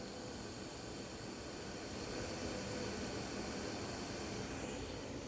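A HeatStar heater running, producing a steady broadband hiss and rush, faint and even with no variation or talk over it.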